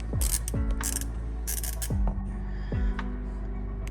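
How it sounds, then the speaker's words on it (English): A 6mm Allen drain bolt on a 2017 Mercedes C63 is loosened with a tool that gives short ratcheting clicks in several separate bursts, close and fairly loud, with no talking. "is taking out the drain bolt. It is a 6mm Allen wrench bolt."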